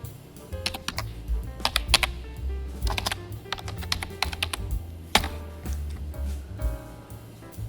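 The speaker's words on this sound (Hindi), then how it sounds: "दूसरा तरीका है कि इजीली आप यहाँ पे जो है टाइप कर सकते हैं उस चीज़ को।" Keys on a computer keyboard clatter in irregular bursts of quick typing, close and clear, with short pauses between runs and no talking.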